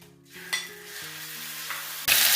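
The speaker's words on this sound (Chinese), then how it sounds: "先把那个肉丝炒一下" Shredded pork stir-fried in a pan, a steady sizzle with light scraping of a spatula, ending in a sudden louder burst of hissing.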